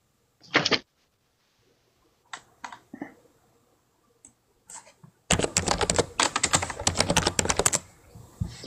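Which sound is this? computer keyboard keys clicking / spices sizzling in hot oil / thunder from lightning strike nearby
computer keyboard keys clicking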